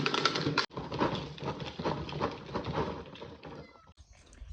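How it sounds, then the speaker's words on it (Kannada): Three house cats meowing close by indoors, several short overlapping cries in quick succession before trailing off, with no talk. "ಇದು 3 ನಮ್ಮ ಮನೆಯ ಬೆಕ್ಕುಗಳು"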